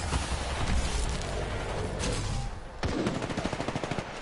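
Gunfire in the battle-royale game Apex Legends, dense and loud, with continuous automatic fire and booming shots, a short lull, then a rhythmic rapid string of rounds.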